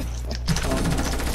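Rapid gunfire in the video game Fortnite, a dense burst of shots rattling off in quick succession after a short lull, fairly loud and close.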